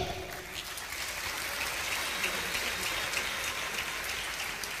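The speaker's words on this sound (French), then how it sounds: "Je voudrais également qu'on puisse applaudir nos ministres, nos vaillants ministres et vice-ministres qui sont ici dans la salle." An audience in a hall applauds government ministers and vice-ministers at a congress closing ceremony, a steady, fairly distant wash of clapping that holds evenly for several seconds without talk.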